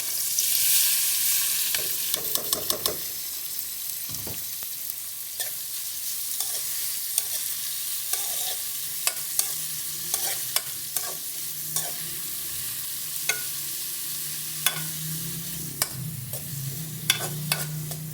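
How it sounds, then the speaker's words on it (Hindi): Onions fry in oil in a kadai with a constant bright sizzle, punctuated by repeated spatula scrapes and taps against the pan, close and continuous with no talking. "कढ़ाई में मैंने ऑयल ले लिया है और 4 मैंने प्याज ले लिया। अब इनको मैं अच्छे तरीके से फ्राई कर लूँगा।"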